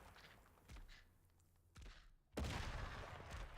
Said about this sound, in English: You're gonna take a grenade to the face.